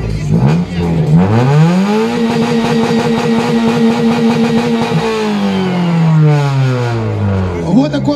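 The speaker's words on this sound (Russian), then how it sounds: "Вот такой вот у нас от Александра мощный выхлоп." A car with a loud, powerful exhaust revs hard at a stance car festival in Tyumen, rising to a sustained high-rpm roar and then falling back, close and very loud, with people talking faintly underneath.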